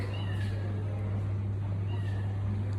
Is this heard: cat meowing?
yes